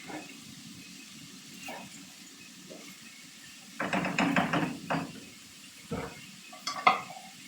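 Chicken and chopped zucchini are stirred in a pan, with quiet sizzling beneath a handful of scraping, clattering bursts from the utensil against the pan, louder toward the end.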